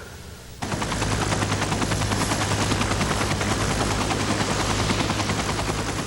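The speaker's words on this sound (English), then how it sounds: "Andrea was taken by Life Flight helicopter to Baptist Hospital" A Life Flight medical helicopter, loud and close, its rapid rotor chop pulsing steadily over a deep engine drone after a quieter opening moment.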